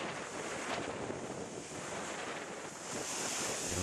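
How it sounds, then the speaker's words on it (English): Ocean waves crash against a rock formation and shoot water up into the air. The roar of surf and spray is loud and close and blends with wind buffeting the microphone, with no voices. "the formation when the waves hit just right, it shoots the water straight up into the air"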